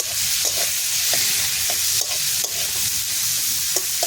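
Chopped onions fry in a small amount of leftover fish-frying oil in a pan for a rohu fish and eggplant curry, giving a steady close sizzle with periodic scrapes and stirs of a spoon.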